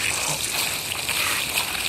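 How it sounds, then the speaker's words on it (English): Cold water sprays from a shower in a steady, dense hiss that holds at an even level for two seconds. "God damn, this water's fucking cold."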